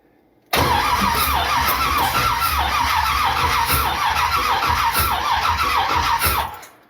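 A 1979 Corvette engine is cranked over, giving a loud, steady, rhythmic churning with a regular pumping pulse. It starts abruptly and runs for about six seconds, then tapers off, with no talk.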